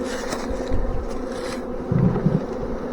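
A huge honey bee swarm buzzes and fans at a swarm trap, a dense continuous droning hum heard up close and loud, with individual bees whirring past.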